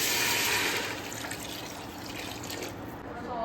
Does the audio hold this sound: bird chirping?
no